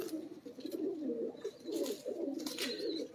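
Pigeons cooing in a breeder's loft, a continuous low rolling murmur from several birds nearby, with faint higher chirps over it.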